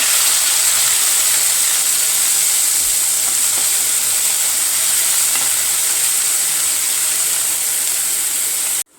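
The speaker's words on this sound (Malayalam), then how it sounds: "കറിവേപ്പില ചെറുതായി അരിഞ്ഞിട്ട് കൊടുക്കുക അതിനോടൊപ്പം പച്ചമുളക് ചെറുള്ളി നന്നായി ചതച്ചത് നന്നായിട്ട് ഇളക്കി കൊടുക്കുക" Curry leaves, green chilli and crushed shallots sautéing in a pan for a Kerala-style milk tapioca dish, a steady loud sizzling hiss that runs unbroken and alone from start to finish.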